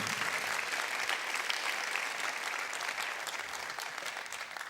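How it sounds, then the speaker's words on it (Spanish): Applause from a church congregation during a sermon, a steady even wash of many hands clapping at moderate distance that carries on throughout without any talking. "Que el aplauso sea para el Señor."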